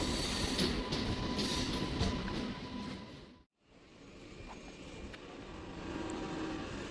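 EMU local train on the Kanchipuram to Chennai line, held at a red signal: a steady, loud rumble and rattle of the carriage, a brief near-silent dip midway, then the broad running noise resumes.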